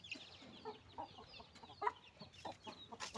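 Native country chickens cluck in short, scattered calls near a coop at dusk, several birds calling over a quiet background.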